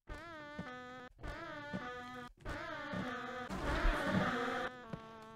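Bees buzz in the video game Don't Starve Together, a droning, tonal hum in several bursts separated by short gaps, growing denser and louder toward the end.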